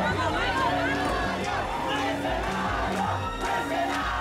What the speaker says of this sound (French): La foule castriste les traite de mercenaires à la solde des États-Unis